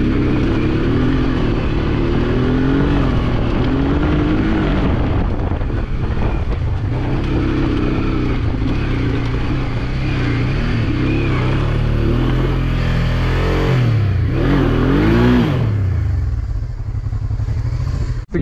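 A heavy motorbike revs hard as it charges up a muddy slope in the Tzoumerka mountains, the engine loud and close, rising and falling through gear strain, with wind buffeting the microphone throughout.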